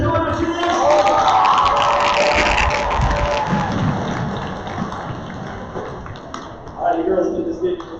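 Crowd at a school pep rally clapping and cheering as cheerleaders run out, a loud, sustained wash of applause that fades, with talk over the noise.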